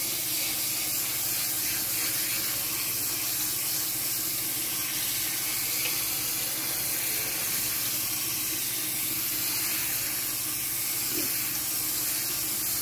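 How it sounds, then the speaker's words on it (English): Rice for khao tom is washed in a strainer under a running tap, a steady close hiss and splash of water that continues unbroken throughout. "the more thoroughly you wash the rice,"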